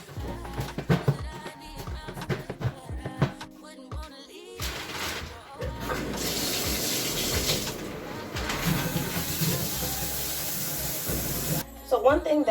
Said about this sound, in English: I am going to go and get in the shower.